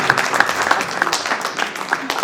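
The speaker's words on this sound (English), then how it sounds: "Can we have a big round of applause?" Audience at a writers festival session applauding, dense steady clapping that stays fairly even and moderately loud throughout the short stretch, with no speech over it.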